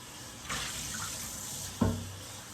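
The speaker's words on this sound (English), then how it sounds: "I'm gonna take and rinse them off." Peeled potatoes are rinsed under a kitchen sink tap. The water runs faintly and steadily, with two brief splashes as the stream hits them.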